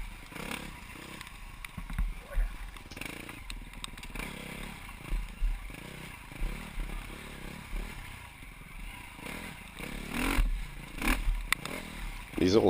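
An enduro motorcycle rides single track through old clear cuts strewn with fallen dead trees near Cat Lake, BC. The engine rumbles and surges at moderate level, mixed with clattering and scraping from the trail.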